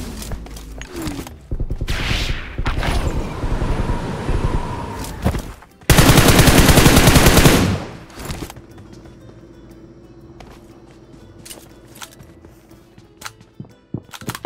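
Automatic weapon fire in the mobile battle royale game PUBG Mobile, loud rapid bursts crackling through the first half, then a dense, heavy stretch of continuous shooting before it fades to quieter background game ambience.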